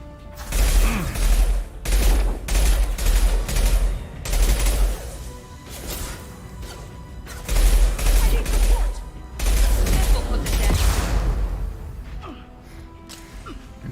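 Sniper and other gunfire in the video game Mass Effect 2 crackles in repeated loud bursts separated by brief pauses, then thins out toward the end.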